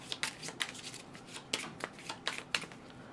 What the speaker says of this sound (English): The deck is now shuffled afterwards.